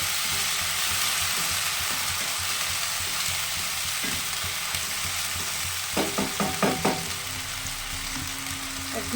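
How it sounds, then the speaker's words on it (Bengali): Mustard spice paste with green chillies frying in a pan for a pumpkin dish, giving a dense, even sizzle throughout, with a short burst of metallic clatter from stirring near the end. "এবার পুরো পেস্টটা ওখানে দিয়ে দেবো এবারে করে ভেজে নিতে হবে"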